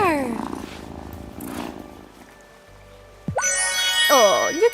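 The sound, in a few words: cat purring in the video game Wylde Flowers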